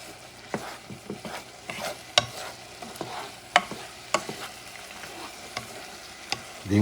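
Venison meatballs fry in a pan as thyme goes in, giving a low, steady sizzle punctuated by sharp, irregular clicks and scrapes of stirring.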